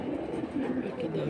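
High-flying pigeons coo close by in a short, soft, throaty burst.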